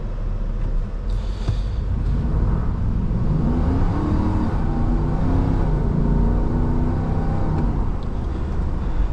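Ford F250 XL pickup truck accelerating from a standstill to 40 mph, heard from inside the cab as a steady, rising engine rumble with road roar. The sound stays close and fairly loud throughout, and no one speaks.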